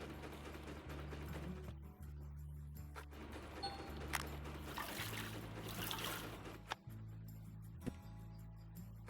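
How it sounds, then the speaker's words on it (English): Steady flowing water from gold mining equipment in a video game, a continuous low wash overlaid with mechanical ratcheting and gear hum, with no talking. "only half the amount of sound of water going"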